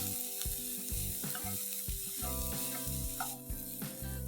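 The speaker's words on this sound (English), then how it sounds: "Saute the onion till it's nice and soft as well as golden brown" Finely chopped onion sautés in a hot pan for a dhaba-style paneer masala, giving a steady, hissing sizzle that runs throughout beneath soft background music.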